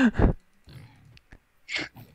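Pigs in the Nether of Minecraft give loud, close grunts and snorts in short bursts, with one at the start, a softer run in the middle, and another at the end.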